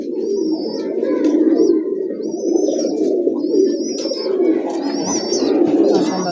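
A pair of Bombay breed pigeons cooing close by in a loud, continuous, throaty murmur, with higher chirps and whistles from other birds scattered over it.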